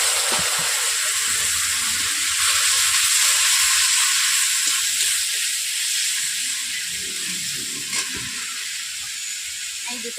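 Water poured into a hot pan of fish curry with mustard, giving a steady, loud hissing sizzle that slowly eases over ten seconds, with faint stirring underneath.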